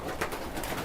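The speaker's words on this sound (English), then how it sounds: "In here, there must be 50 or so pigeons." Many pigeons in a crowded Cairo loft give off a steady low cooing murmur with soft fluttering, close and fairly quiet throughout.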